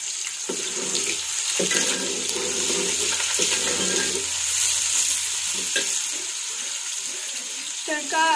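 Onions fry in ghee for a tadka for Punjabi-style gobhi aloo sabzi, a loud close sizzle with stirring scrapes that rise and fade over several seconds, then quiet down near the end.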